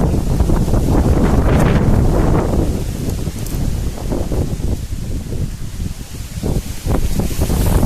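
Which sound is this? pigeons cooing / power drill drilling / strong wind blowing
strong wind blowing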